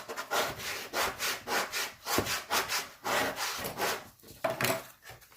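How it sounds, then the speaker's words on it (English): A bone folder pressed and rubbed back and forth over paper card, a rhythmic close scraping swish repeating about ten times, steady and alone without talking. "with a bone folder, I'm going to rub back and forth with some pressure just to make sure everything is adhered nicely"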